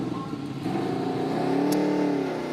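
A NASCAR Camping World Truck Series engine at Charlotte Motor Speedway fires back up and revs, a steady mid-level drone with rising harmonic sweeps and faint crowd or commentary underneath.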